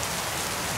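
Steady rain falls in a dense, even hiss that fills the moment without a break, close and uninterrupted by voices.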